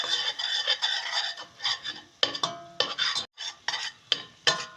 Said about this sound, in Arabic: ضليت اقلب بالزبدة الى ما صار بهالشكل هذا